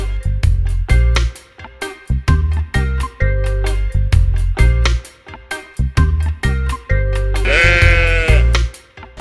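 Sheep bleat loudly and repeatedly at a butcher's shop in Egypt, several animals calling in overlapping cries close by, one long wavering bleat near the end.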